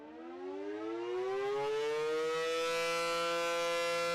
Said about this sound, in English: When sirens are tested, you should hear this.